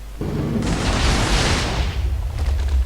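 A Minecraft TNT block detonates in the video game with a sudden booming burst that swells into a dense, crackling rumble for about two seconds. No voices are heard.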